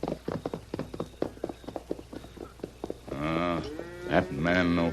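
A herd of steers moves nearby, hooves thudding in an irregular patter, and then a loud, drawn-out moo rises over them, followed by another lowing call.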